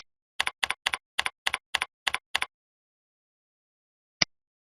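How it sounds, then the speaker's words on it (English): Keystrokes on a computer keyboard while typing a forum message: nine quick, crisp clicks in a steady burst, then silence and one last isolated tap. "click in the message area and begin typing your message"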